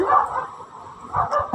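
A dog barks outside at night, two close yipping barks with a whimpering edge, loud and alone, separated by a brief pause.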